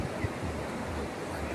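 Ocean waves wash on a crowded beach at Santos, a soft continuous surf roar mixed with light wind noise on the microphone, fairly faint and steady with no voices.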